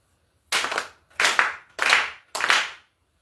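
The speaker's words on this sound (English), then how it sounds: "Please clap 4 times along with the vision." Four crisp, evenly spaced hand claps from a group of people at a memorial service, each clap sharp and separated by silence.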